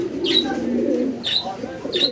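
Fancy pigeons at a breeding farm give low, continuous cooing, with three brief higher chirps recurring about once a second over the steady murmur.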